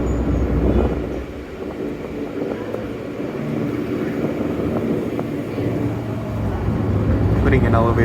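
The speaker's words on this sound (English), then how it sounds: "I could literally hear the subway coming from those grades" A Toronto subway train rumbles closer with a deep, steady roar and a rising hiss near the end, while faint voices can be heard.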